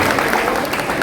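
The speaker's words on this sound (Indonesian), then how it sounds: "Boleh tepuk tangan sekali lagi untuk Rahma." A crowd at a political discussion event applauds a high school student, with a short burst of dense, loud, close clapping.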